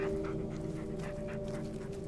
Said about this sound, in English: Bullet started barking, and that car was on the ground.